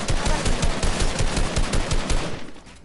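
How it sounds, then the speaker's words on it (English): A drum gun fires in Fortnite, a loud, rapid stream of automatic shots with an even rhythm that runs steadily for over two seconds before cutting off into quiet. "That's a drum gun."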